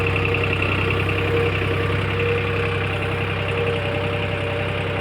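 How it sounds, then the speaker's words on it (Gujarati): A tractor engine runs at a steady idle for the whole stretch, a close, continuous low rumble with an even throb and no voices. "તો એ રીતના હાલે છે ટ્રેક્ટર કેટલા RPM માં ચાલે છે એ જોઈ લો।"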